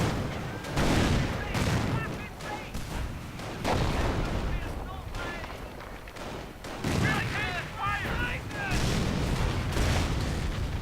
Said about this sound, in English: Now artillery getting called in.